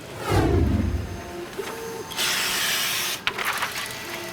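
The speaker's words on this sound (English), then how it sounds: "That's the sound of the printer printing out the gores." A printer runs while printing black-and-white globe map gores, giving off a steady mechanical hiss and whir with brief pauses, a short clunk, and another sustained run of printing noise.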